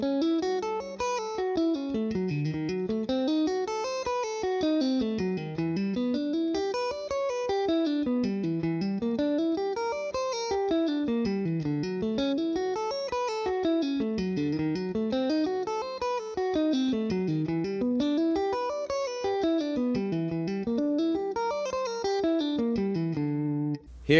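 A romantic arpeggio lick on guitar, with a tone that sounds processed, repeats as a rising and falling cycle of evenly picked notes, steady and moderately quiet, with no talking.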